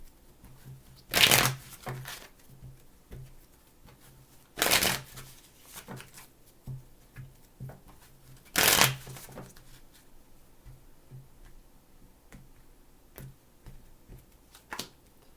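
Three bursts of tarot cards being riffle-shuffled, each lasting about a second and spaced several seconds apart, with soft handling taps in between.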